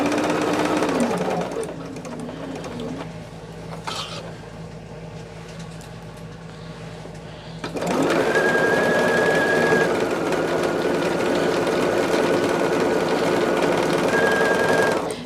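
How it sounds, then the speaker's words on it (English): A sewing machine stitching two quilt rows together, a steady mechanical whirring hum that settles briefly and then runs louder and continuously, with a voice talking over it. "all I'm doing is just sewing these two rows together."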